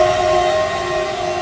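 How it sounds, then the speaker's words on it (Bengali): A freight train with a red engine, loaded with onions, potatoes and flour, passes at speed. It makes a loud, continuous rumble with a steady tonal hum throughout. "আমরা চেষ্টা করব দেখি মালবাহী ট্রেনটা কত বড় এবং কত স্পিডে যায়।"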